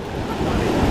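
Loud, steady roar of churning water from a raging waterfall on a smallmouth bass fishing spot, a dense broadband rush filling the whole moment with no pauses.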